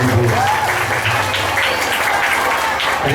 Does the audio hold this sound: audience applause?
yes